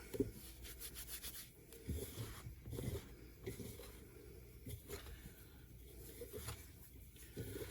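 Hands rubbing butter into flour for rivel soup, soft dry rustling and rubbing strokes in an irregular rhythm, close but quiet, with no speech.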